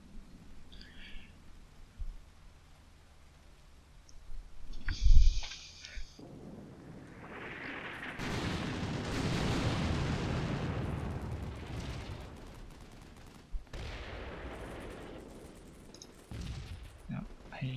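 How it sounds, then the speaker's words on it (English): Mortar and artillery fire in a war video game set around Narva: distant booms and a heavy blast, then a long rumbling barrage with sharp reports, and talk heard at points. "These guys are advancing infantry into mortar and enfilade fire"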